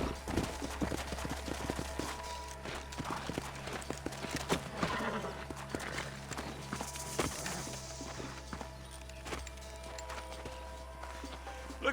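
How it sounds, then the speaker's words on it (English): Horses' hooves clip-clop steadily in Red Dead Redemption, a continuous walking rhythm under a busy game soundscape with a low steady hum and scattered background noises. "Let's hold up a minute and find a spot for our horses"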